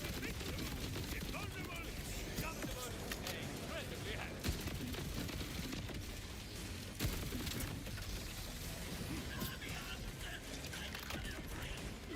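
Dense, continuous gunfire from several weapons in Borderlands 4, a steady wash of rapid shots and crashes lasting the whole stretch with no clear pauses.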